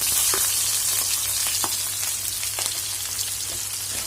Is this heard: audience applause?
no